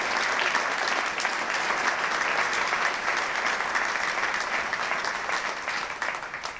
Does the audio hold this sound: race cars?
no